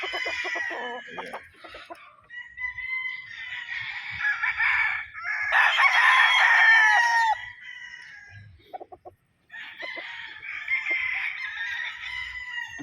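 Gamefowl roosters on a farm in Dolores, Quezon Province, crow repeatedly and loudly, with overlapping cock-a-doodle-doo calls and some clucking, close by and with no talk.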